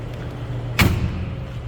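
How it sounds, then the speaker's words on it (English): A 1957 Chevrolet 210 Sedan door shuts with a single solid thump, brief and close against quiet background. "Door closes, fits nicely, sounded good."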